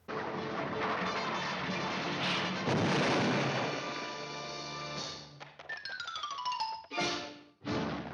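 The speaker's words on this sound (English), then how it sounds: "once the missile ends up hitting all those wagons, it's just the same outcome in both" A cartoon missile blasts into a row of wagons in the 1945 Looney Tunes short Wagon Heels: a long, loud roaring explosion with crashing debris, then descending whistles and sharp comic sound effects trailing off near the end.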